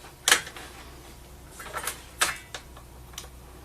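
Male and female MC4 solar cable connectors snapping together, heard as a few crisp, close plastic clicks spread over a few seconds against a quiet background.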